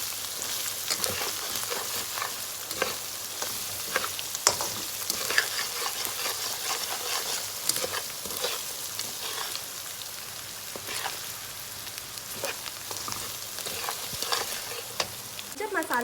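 Turmeric, coriander and cumin powder fry in a pan for a chicken ginger handi, giving a steady soft sizzle with intermittent scraping and stirring clicks throughout, fairly quiet and with no talking.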